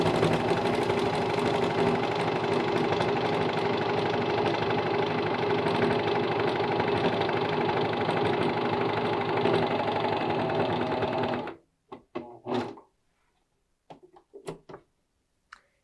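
A sewing machine sews a coverstitch hem with a loud, steady, continuous whir at close range for about eleven seconds. It then stops abruptly, and a few soft clicks and handling noises follow.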